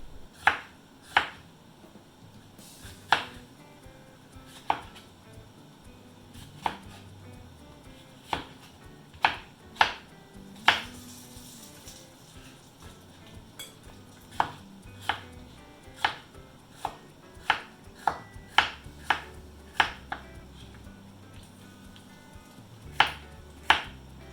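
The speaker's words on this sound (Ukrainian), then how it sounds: "Так як перець досить м'ясистий, нарізайте його дрібно" Steady chopping of bell pepper with a knife on a cutting board, sharp close taps in irregular bursts, sometimes quick runs, with a quiet kitchen background and no speech.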